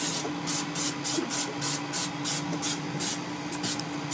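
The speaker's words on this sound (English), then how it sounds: "Get my best Rust-Oleum spray paint spray right there." Rust-Oleum spray paint hisses out of the can in about a dozen short, rhythmic bursts, close and fairly loud, on a sailing boat at anchor.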